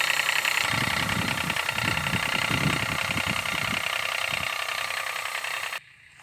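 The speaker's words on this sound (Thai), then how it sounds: "กำลังพ่นยากำลังเตรียมสูบน้ำยาจากถังครับ" Engine-driven pump drawing chemical spray from a tank to spray durian trees in an orchard in Chanthaburi, Thailand. A steady, rattling engine drone runs close by, then cuts out abruptly near the end.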